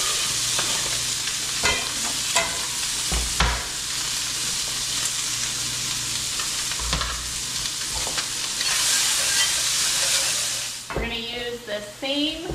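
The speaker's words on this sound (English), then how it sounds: "straight to the oil and the meat, we are going to go in with our onion" Onion going into a pan of hot oil and meat, a loud, steady sizzle and hiss with occasional stirring scrapes and clatters, then a short burst of talking near the end.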